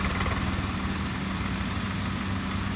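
A tractor engine runs at a steady low idle, a continuous rumbling drone heard close and even throughout, with no talk.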